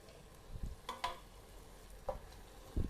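Tomatoes go into a pot of fried orange peel for red chicken kabsa, giving a low, quiet sizzle with a few soft stirring scrapes and a louder thump near the end.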